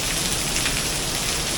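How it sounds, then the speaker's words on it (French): Steady rain falls on a wet Singapore street, a dense, even hiss of drops hitting surfaces with no voices. "Sous la pluie."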